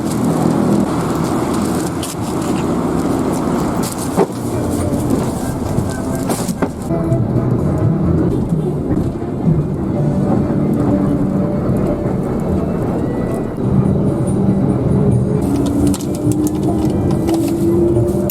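Cabin of a bus travelling along a road, heard as a continuous low engine and road rumble with rattles and faint background murmur, fairly loud and steady throughout.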